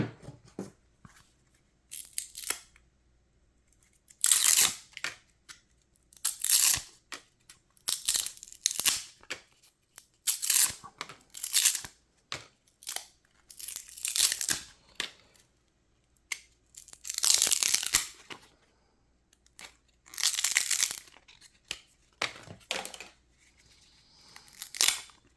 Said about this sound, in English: here we are, peeling all these apart